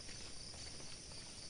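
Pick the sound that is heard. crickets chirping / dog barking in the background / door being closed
crickets chirping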